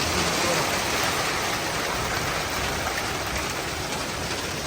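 Steady dense patter of rain mixed with hail, falling continuously and fairly loud with no pauses, like a downpour close by.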